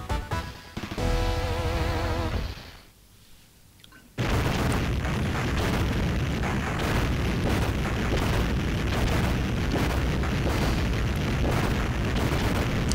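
A huge, sustained explosion roars in the retro action game Contra Hard Corps. A dense booming rumble starts suddenly after a brief quieter lull and continues loud, with game music tones in the opening seconds.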